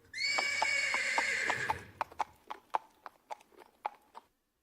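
A horse in a video game gives a loud, close whinny lasting about two seconds, followed by a run of sharp, evenly spaced hoof clops that fade out.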